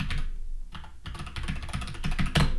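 Someone types a Web3 domain name into a search field on a computer keyboard, producing a fast, steady run of close key clicks over a busy background noise.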